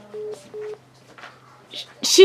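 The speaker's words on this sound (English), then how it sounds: "She hung up the phone." Short electronic telephone tones beep twice at a steady pitch, followed by a faint click and a louder burst as the phone call ends, with brief quiet speech-like sounds between them.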